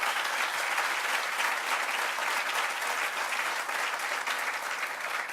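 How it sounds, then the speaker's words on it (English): Steady, sustained applause from a crowd at a groundbreaking ceremony, continuous clapping that holds at an even level for the whole stretch. "Let's give a round of applause to Mayor Brown."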